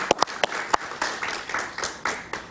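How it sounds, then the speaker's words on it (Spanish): Applause for Paquita Cabrera in a television studio: a modest group claps, with sharp individual claps standing out at an uneven rhythm over a thinner spread of hands, fairly close and brief. "un aplauso para Paquita"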